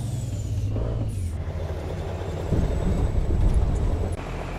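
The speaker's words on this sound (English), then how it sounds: "It's a nice sounding truck." Heavy truck engine hauling a heavy trailer in a trucking game, a continuous low droning rumble that swells slightly midway, heard alone without speech.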